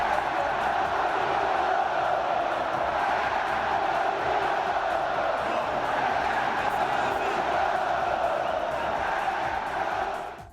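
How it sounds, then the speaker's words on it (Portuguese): A large crowd of Flamengo fans chants together in a football stadium near the end of a match, a dense, continuous roar of many voices, steady and loud, fading out at the end. "no finalzinho do jogo, a torcida do Flamengo gritou isso"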